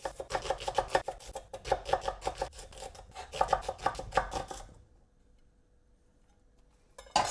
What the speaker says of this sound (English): So I'm just going to, as finely as I possibly can, chop up 2 onions.